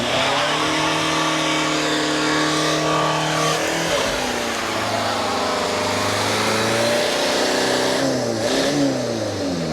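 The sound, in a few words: Volkswagen Caddy van engine revving while accelerating through gears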